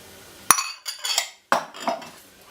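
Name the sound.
whisking eggs with sugar in a bowl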